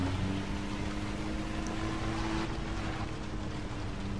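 A vehicle engine drones steadily while driving in Far Cry 3, a constant low hum with wind-like rush and no talking.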